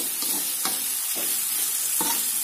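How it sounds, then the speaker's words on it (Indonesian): Spices and aromatics frying in a pan while being stirred, giving a steady loud sizzle broken by several scraping strokes of the spoon, with no voices. "bumbunya saya aduk lagi kalau udah harum bumbu-bumbu"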